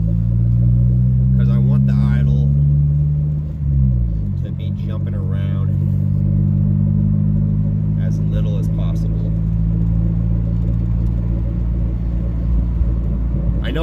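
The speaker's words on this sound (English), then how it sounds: "the idle is dropping quite a bit right now when I stop" A boosted EG Honda Civic engine idles with a low, steady hum; its pitch sags noticeably partway through and then settles, while someone talks intermittently over it.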